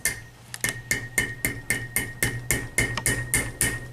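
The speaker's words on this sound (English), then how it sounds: "we'll hammer that down in between those ears" Steady series of sharp metallic hammer blows, about two per second, striking down the ends of a steel strap on a Strapbinder FAST-LOK C-2 clamp; close and clear with no talk.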